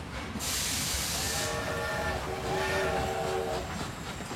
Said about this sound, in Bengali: দেখতে দেখতে ট্রেনের গতি মন্থর হয়ে এলো।